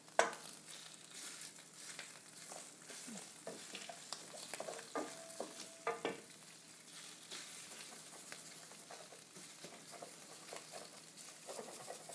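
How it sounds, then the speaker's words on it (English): Homemade sausage frying in a pan while being scraped and broken apart, heard as faint, close, irregular scraping and crackling strokes over a low sizzle, busier early and thinning toward the end, with no talking. "my homemade sausage doesn't want to break up easily"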